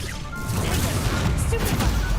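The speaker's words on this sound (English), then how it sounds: "Incendio." Fire spell cast during combat in Hogwarts Legacy, a dense crackling, roaring burst that runs steadily through the short moment, with loud low rumble and scattered impacts layered over constant game ambience.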